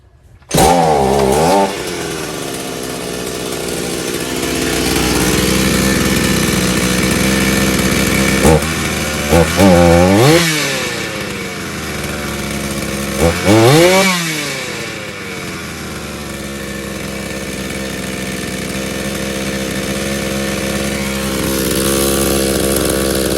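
Chainsaw engine started by pulling the cord, roaring close by and revving up and down unevenly several times while running, with no talk over it.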